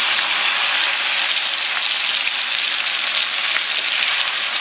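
Ground chili and garlic paste sautés in a pan with a loud, steady, dense sizzle that holds constant and close throughout with no pauses.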